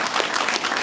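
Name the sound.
audience applause at a closing ceremony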